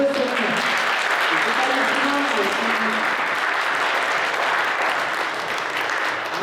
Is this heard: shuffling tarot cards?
no